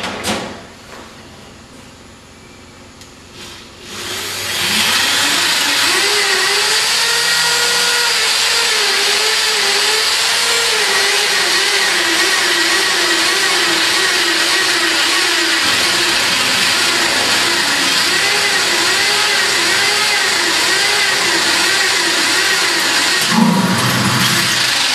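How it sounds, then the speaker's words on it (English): A power drill bores through material, opening after a few quiet seconds with a loud, close, continuous motor whine whose pitch wavers and dips under load for about twenty seconds. "as you can see drilling through this, because it is easy to snap your drills"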